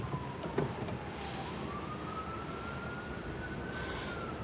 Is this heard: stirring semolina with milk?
no